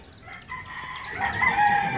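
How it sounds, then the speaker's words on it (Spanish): A hen with her chicks on a ranch clucks and calls loudly and close, in overlapping vocal bursts that grow busier toward the end. "Pueden ver a la gallina con sus pollitos."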